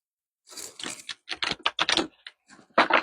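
Crisp bursts of papery riffling and slapping as a deck of tarot cards is shuffled in several quick runs with brief pauses between.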